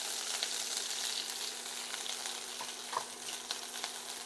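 Green chillies and prawns fry in a pan with a steady, close hiss of sizzling oil, a few soft pops and brief stirring scrapes standing out near the end.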